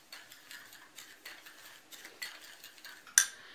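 Curing salt being stirred together with kitchen salt for hunter's sausage, a light scraping and clinking of dry grains and utensil repeated softly, ending in one sharper clink.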